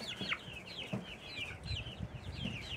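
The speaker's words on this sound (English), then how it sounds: "Got chickens over here. Chickens coming over." Backyard chickens cluck and chatter softly in a steady, overlapping stream close by, with faint rustling underneath and no voices.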